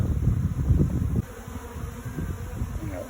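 Honey bees swarm around a cracked pot holding comb, a close, dense buzzing that is loud at first and then eases to a steadier, softer drone.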